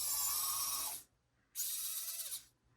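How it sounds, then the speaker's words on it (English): A small power drill bores a hole in polymer clay in two bursts, about a second each, with a short pause between; the second burst dips in pitch as it bites. "you're worried about drilling a hole in the same place each time"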